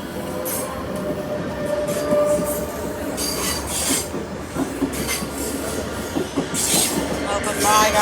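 Train rolling past a railway crossing in Pineda, Spain, a steady loud rumble of wheels on rails with high squeals and clicking wagons, continuous throughout.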